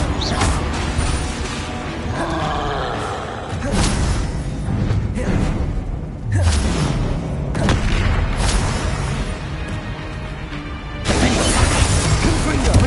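Blasting spell explosions in Hogwarts Legacy: repeated loud booms and crashing bursts with whooshes and shattering debris, spread over a busy combat soundscape with several distinct impacts.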